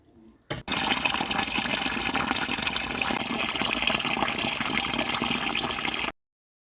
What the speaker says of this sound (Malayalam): അപ്പോൾ അതൊക്കെ നല്ലപോലെ തന്നെ വെള്ളം ഒഴിച്ച് കെടുത്തു കേട്ടോ